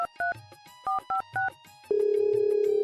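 A phone call being placed: a handful of short electronic keypad beeps in quick succession, then a steady, loud ringing tone that continues, with no voices.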